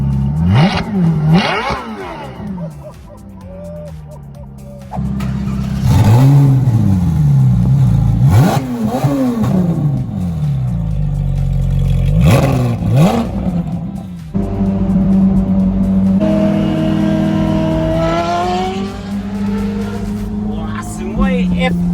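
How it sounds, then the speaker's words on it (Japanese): A Ferrari F430 engine revs repeatedly in sharp rising and falling bursts, loud and close, with a lower idle rumble between revs. "Robert, your car sounded louder all of a sudden"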